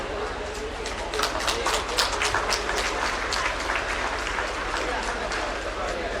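Audience applause welcoming a chief minister and guests at a bridge and road foundation-stone ceremony, a dense, steady wash of clapping from a sizeable crowd that swells slightly and holds throughout, with no talk over it.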